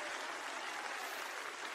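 A church congregation claps in praise during a sermon, a dense, even wash of hands applauding, fairly quiet and distant, with no voices standing out.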